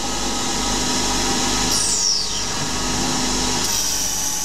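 CNC lathe spinning at 3000 rpm while threading brass, a steady loud machine whir with a high tonal whine that sweeps down once and resumes near the end, no speech.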